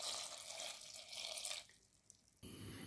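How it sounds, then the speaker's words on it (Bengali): Vinegar pours steadily into a clay pot for a naga chili pickle, a close, continuous liquid splash that thins to a lighter trickle before stopping, then a brief louder burst at the end. "এখন দিয়ে নিলাম ভিনেগার"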